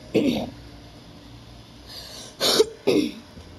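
Three separate coughs from a person playing Little Nightmares, close and abrupt, the first near the start and two more in quick succession near the end, with quiet gaps between.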